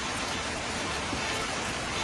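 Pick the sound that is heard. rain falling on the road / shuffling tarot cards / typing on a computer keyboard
rain falling on the road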